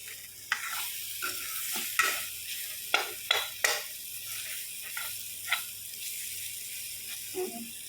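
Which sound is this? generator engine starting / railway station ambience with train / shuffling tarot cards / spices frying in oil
spices frying in oil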